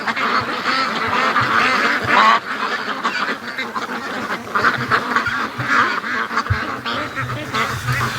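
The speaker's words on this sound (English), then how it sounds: "My ducks think there's something here." A flock of free-range ducks at a lake quacks continuously and loudly, overlapping calls forming a busy, chattering chorus close by.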